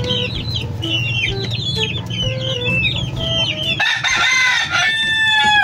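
A hen clucks after laying an egg, with rooster crowing and other fowl calls on a farm, a loud busy mix of repeated cackles and crows continuing throughout.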